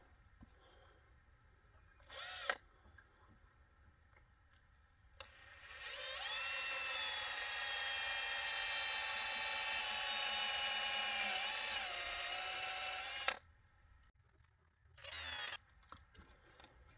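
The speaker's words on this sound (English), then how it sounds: "get it clamped in place and then we'll drill it" A power drill bores into a metal Arrow ATV front rack on a Can-Am XMR1000, whining steadily for about eight seconds after a short test burst. A brief second burst follows, close and fairly loud in a quiet space.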